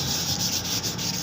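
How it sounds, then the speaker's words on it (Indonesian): Sandpaper of 2000 grit rubbing over candy red paint on a motorcycle body panel, a close, continuous hissy scrubbing with faint pulses from short strokes. "Setelah kering langsung kita gosok yang ukuran kertasnya 2000."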